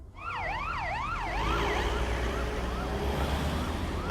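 Ambulances pulling away with a wailing siren, its rising and falling sweeps repeating over steady traffic rumble and gradually fading into the distance.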